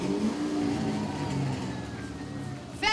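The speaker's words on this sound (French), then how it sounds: "Le prochain véhicule, un Mustang rouge et on aimerait entendre le moteur." A red Ford Mustang arriving at a school prom revs its engine nearby, a rough mid-pitched roar that rises and eases over a few seconds with crowd noise and a sharp burst at the end.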